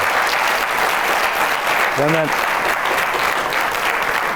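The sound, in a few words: audience applause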